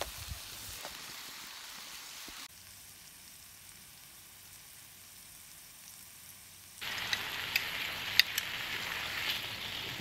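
Bacon frying in a pan on a Trangia stove outdoors in the woods, a soft steady sizzle that turns into a louder, crackling hiss with sharp pops partway through.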